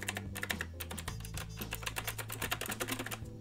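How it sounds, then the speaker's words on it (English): Rapid, steady clatter of clicky mechanical key switches on a LIOURFE retro typewriter-style LED keyboard, close and crisp, with dense bursts of keystrokes and no voices. "This is basically a colorful LED typewriter keyboard"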